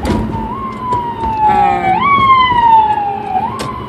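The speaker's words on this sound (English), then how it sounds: "oh shoot it's an ambulance behind me" An ambulance siren wails, rising and falling steadily, loud and nearby behind the vehicle, heard from inside a vehicle over low road rumble.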